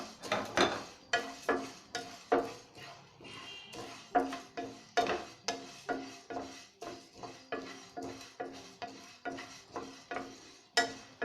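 About 100 grams of coriander seeds dry-roasted in a pan without oil, stirred with steady rhythmic scrapes and rattles at roughly one stroke per half second, close and fairly quiet, with no voices.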